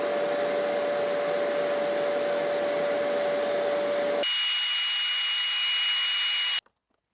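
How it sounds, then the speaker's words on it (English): A loud vacuum cleaner motor whirs steadily, then its pitch jumps higher as it keeps droning before cutting off abruptly to silence. "I'll have the vacuum cleaner running, so it'll be a little noisy"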